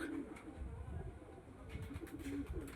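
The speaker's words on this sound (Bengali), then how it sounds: "এটা একটা কালো দানা নর পায়রা রয়েছে" Quiet, soft coos come from a black-eyed male pigeon, with a few low calls scattered through a murmuring background and faint clicks.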